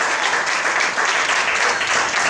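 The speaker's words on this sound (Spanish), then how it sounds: "denle un aplauso al Eterno" A church congregation gives a steady round of applause during a sermon, many hands clapping in a full, continuous burst that holds level from start to finish and is heard with no voices over it.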